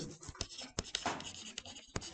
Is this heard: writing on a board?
yes